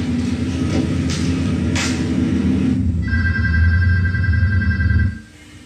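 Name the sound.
telephone ringing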